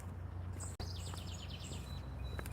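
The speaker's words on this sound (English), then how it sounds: "there's the bird about to get pissed off again at me" Backyard songbird gives a quick series of rhythmic chirps mid-distance, then scattered faint tweets, set against a low constant hum and no speech.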